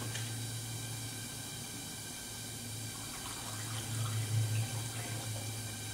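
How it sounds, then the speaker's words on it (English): Distilled water pours into the reservoir of a countertop hydrogen water machine, a quiet, steady trickle and splash that swells a little louder toward the end, with no voices. "we're going to fill this up to about 3/4 of the way up. Straight distilled water."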